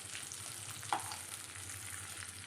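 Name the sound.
fish pieces frying in oil in a pan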